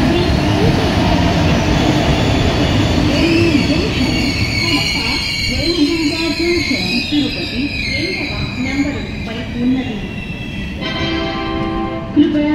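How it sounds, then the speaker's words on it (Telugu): LHB-coach Venkatadri Superfast Express train pulling into Kurnool City station, a steady low rumble and rolling rail noise with rising squeals and clatter, loud and close throughout, with voices and a station announcement over it. "So first LHB run of Venkatadri super fast express present వచ్చేసి ట్రైన్ కర్నూలు సిటీకి అయితే ఎంటర్ అవుతుంది."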